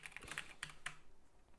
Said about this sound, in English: I'm just going to start typing things in.